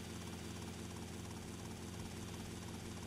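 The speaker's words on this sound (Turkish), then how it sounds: "Direkt şey şuraya indiririm o zaman ben helikopteri." A helicopter flying in GTA Vice City, a continuous rotor thump and engine drone holding steady and close with no voices.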